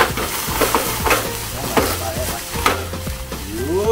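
Tumbong and shabu balls sizzle loudly in a hot pan after cooking wine is added, with a busy crackle and frequent clinks of a utensil stirring close by.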